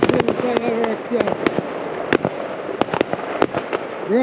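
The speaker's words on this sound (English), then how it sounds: "Fireworks, yeah." Fireworks burst and crackle on Bonfire Night in Derby, UK, with a run of sharp explosions scattered through the clip under ongoing talk from onlookers nearby.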